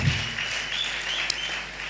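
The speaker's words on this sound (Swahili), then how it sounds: "Hebu mpigie Yesu makofi mazuri." Applause from a congregation during a Swahili church service, a steady broadband patter of clapping filling the space at moderate level without a break, with no talk over it.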